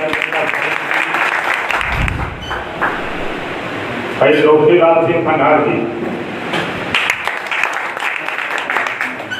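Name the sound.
crowd applause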